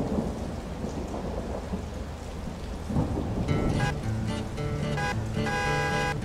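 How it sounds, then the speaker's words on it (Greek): Heavy rain with thunder, a steady hiss of downpour and low rolling rumbles, while a tonal musical layer enters partway through and plays over the storm. "γιατί βρέχει και πολύ"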